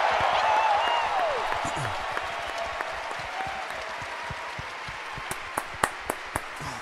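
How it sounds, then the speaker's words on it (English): An audience at a Star Wars panel applauds in a broad, sustained wash of clapping that gradually thins, with a few scattered single claps near the end and voices faintly beneath. "can we get a big applause for my mentor, Mr. Peter Mayhew, at this point?"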